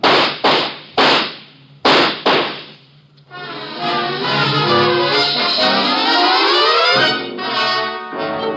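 Gunshots in a radio drama shootout ring out as a rapid series of sharp, loud cracks, four or five close together, then give way to a sustained tonal wash.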